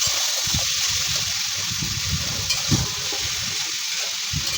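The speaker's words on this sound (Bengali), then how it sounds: "আলুটাও দিয়ে দিয়েছি ভাজার জন্য।" Potatoes and soybeans sizzle together in hot oil in a pan, a steady loud hiss of frying with soft scraping and bubbling bursts underneath.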